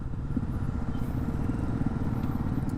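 An off-road motorcycle engine drones steadily and close while riding on a rough road, a continuous low throbbing rumble with no talking.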